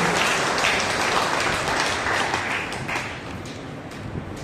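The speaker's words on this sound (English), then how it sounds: "Let us give a big clap to our Father God." A church congregation claps together at a worship gathering, a loud, dense and steady wash of applause that fades a little toward the end.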